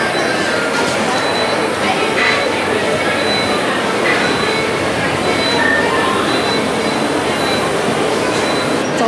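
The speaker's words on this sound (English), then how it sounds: "that's the Resort Monorail right there" A Walt Disney World Resort Monorail runs past an outdoor station platform as a loud, steady rush of rail and wind noise, with indistinct voices under it.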